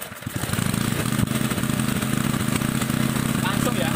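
A Honda water pump engine running on LPG and used for rice-field irrigation idles steadily with a loud, close, chugging drone, and someone talks over it.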